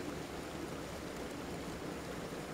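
A mountain waterfall rushes in a constant, dense roar that fills the whole moment evenly, with no voices or other sounds standing out.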